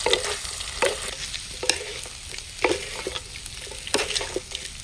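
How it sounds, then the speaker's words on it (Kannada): Chopped sweet potato is stirred in a hot pan of tempering with dried red chili and curry leaves, a steady sizzle broken by repeated scraping strokes of the spoon, close and loud with no talking. "ಇದಕ್ಕೆ ಈಗ ತುಂಡು ಮಾಡಿದ ಗೆಣಸನ್ನು ಹಾಕಿದ್ರೆ ಆಯಿತು ಈಗ ಚಂದ ಮಾಡಿ ಮಿಕ್ಸ್ ಮಾಡಿದರೆ ಆಯಿತು ನೋಡಿ"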